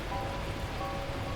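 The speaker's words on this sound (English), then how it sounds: "At that moment, the heavens opened up, unleashing torrential rain." Torrential rain pours in the video game Beacon Pines, a steady, dense hiss of downpour that stays even and unbroken throughout, with no voices.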